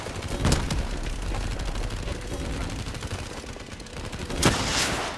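Rapid automatic gunfire fills a Call of Duty Black Ops 3 battle, loud and continuous, with heavier bursts punching through near the start and end.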